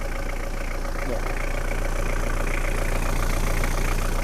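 A 1998 Mitsubishi Pajero 2.8 GLX 4WD automatic with its diesel engine idling, giving a steady, even low rumble that holds unchanged throughout at close range.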